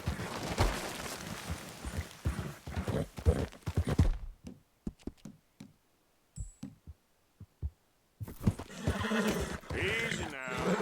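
A horse in the game Red Dead Redemption 2 gallops with rhythmic hoofbeats and lets out a neigh, with a pause of near quiet midway before the riding noise returns, and a voice speaks briefly over it.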